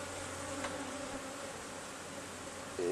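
Honey bees buzz steadily around a beehive during swarm season, a continuous close drone of many wings with a brief louder pass near the end and no talking.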